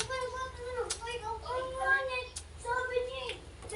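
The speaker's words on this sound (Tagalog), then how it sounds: "Ingay ng mga bata." Several children chatter and call out together in the background, a steady busy murmur of kids' voices with brief louder exclamations running through the whole stretch.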